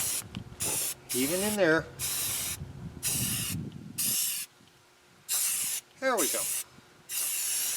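Short hissing bursts of aerosol spray paint laying a light first coat on wheel covers and rims, repeated in a steady on-off rhythm, close and fairly loud, with someone talking briefly between passes.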